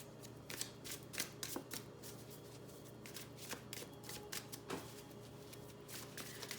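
Tarot cards being shuffled in a series of crisp riffling, slapping bursts, some closer and sharper than others, over a quiet steady room hum with no one talking.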